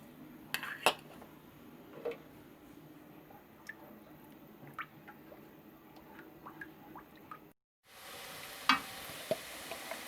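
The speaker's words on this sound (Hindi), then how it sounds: "लहसुन अदरक का पेस्ट डाल दिया," Garlic ginger paste fries softly in oil in a pan, a faint sizzle broken by scattered clinks and scrapes of a spoon against the cookware, with a brief cut near the end.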